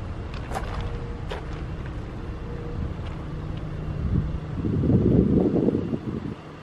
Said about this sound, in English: the wind is really kicking up